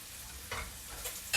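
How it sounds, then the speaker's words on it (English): Lamb pieces frying in a hot pan for a kebab dish while being turned, a steady low sizzle broken by three short scraping bursts as the meat is flipped, close and fairly quiet with no talk. "So I'm just turning this lamb over."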